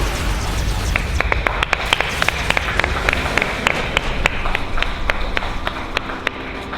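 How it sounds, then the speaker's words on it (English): Scattered applause for a StarCraft II player at a gaming tournament, sparse individual claps ringing out irregularly over a hissy room background, modest and fairly close. "Please give him a round of applause."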